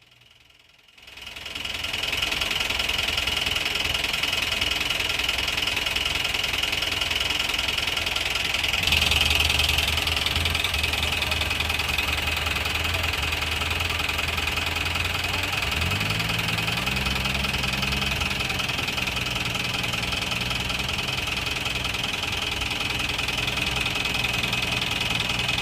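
A jeep engine revs and strains steadily as it climbs a steep mountain road toward Pavana Narasimha Temple at Ahobilam, a loud continuous mechanical drone that rises and shifts in pitch partway through, with no talking.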